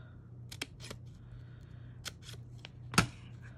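Scissors snip through folded drawing paper in a few quiet, crisp cuts, close by and faint, with a slightly sharper snip near the end and no voices.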